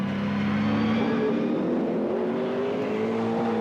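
A 1998 Holden Commodore V8 touring race car screams at high revs at Mallala, a steady, loud drone that shifts pitch slightly as the car holds speed.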